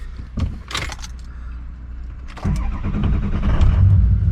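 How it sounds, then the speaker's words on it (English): A truck engine cranks and catches after keys jangle and a door clatters, settling into a loud, close, low idle for the last couple of seconds, with no voices. "And the truck even started."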